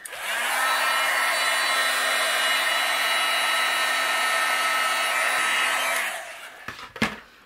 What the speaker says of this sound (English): I'm going to use my heat gun, and we're going to melt the embossing powder on these acetate.